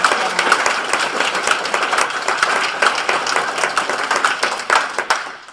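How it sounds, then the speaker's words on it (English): Students clap for the keynote speaker at a youth conference, a loud, steady round of close hand claps with a crowd-like density that continues throughout. "let's give him a big round of applause"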